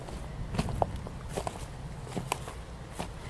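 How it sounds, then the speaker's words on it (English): Footsteps walk outdoors among foliage, a series of soft, fairly close steps at an unhurried pace over a low windy background. "I'm going to try to do some walking."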